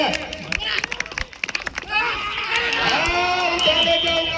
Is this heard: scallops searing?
no